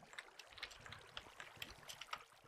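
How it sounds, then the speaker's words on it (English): Flowing water in the Minecraft modpack Charoncraft, heard from a distance as a faint, quiet trickle with small bubbling drips repeating irregularly. "You can also hear flowing water from here."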